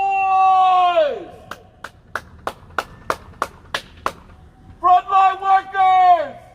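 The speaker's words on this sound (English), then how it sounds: "Would you honk your horns, clap your hands, shout, make some noise!" Crowd at an outdoor thank-you rally for frontline essential workers bursting into a loud chorus of car horns, then a series of sharp, evenly spaced claps, then another round of honking horns.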